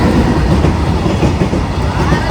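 A train rumbles steadily along the tracks close by, a loud continuous clatter of wheels over rails with no voices.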